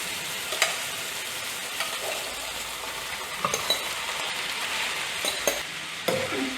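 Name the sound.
egg noodles stir-frying in oil in a pan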